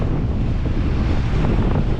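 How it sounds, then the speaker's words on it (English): Steady wind roaring across an open microphone in the snowy alpine region of New South Wales, Australia, a dense low rumble with gusty buffeting throughout and no voices. "As you can hear as well, it's getting windy."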